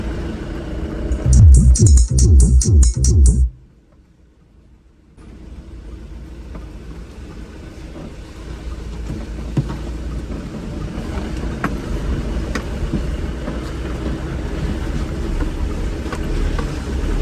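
Vehicle rumble and low engine noise as a car is driven down over rough ground near Varanasi, a steady low drone after a loud burst of clatter at the start and a short near-silent gap.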